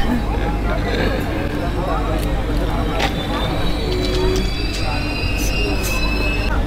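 A Gudur–Vijayawada MEMU train pulls into Ongole station with a steady low rumble and thin wheel squeals, under constant platform crowd babble.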